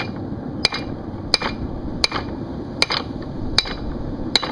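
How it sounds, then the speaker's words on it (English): A hammer strikes cold metal while a knife is being forged, six evenly spaced ringing blows about three-quarters of a second apart over a low background rumble. "you're just hammering on the cold metal"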